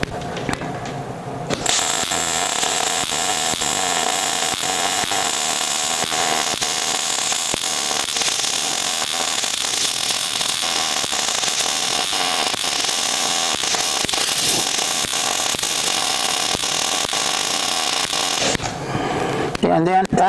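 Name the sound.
downhand welding on a gantry crane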